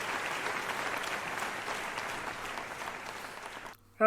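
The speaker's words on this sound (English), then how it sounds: "a big round of applause" A crowd at a team-building evening event applauds in sustained, even clapping that fills the room, then stops abruptly at the end.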